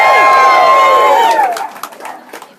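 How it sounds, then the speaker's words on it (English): A crowd at a rally against family separation screams and shouts together, a loud burst of raised voices and cheers that gradually thins and fades into scattered calls. "scream and shout."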